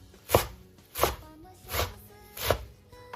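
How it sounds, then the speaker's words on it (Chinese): Knife steadily chopping washed, drained sweet potato leaves on a cutting board, four firm evenly spaced strikes close up with no talking. "放到案板上面，改刀给它切成细丝。 然后我们再给它切成小丁。"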